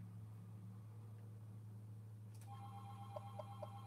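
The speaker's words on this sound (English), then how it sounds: "Sorry about the phone ringing in the background." A telephone rings faintly in the background, a few short electronic chirps arriving near the end over a constant low hum.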